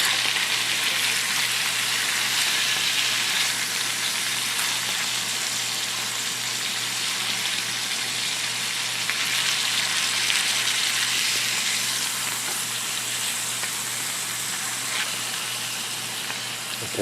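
Lean ground beef with potatoes and onions sizzling in a pan, a dense, constant hiss and crackle close up, unbroken for the whole stretch with no talking.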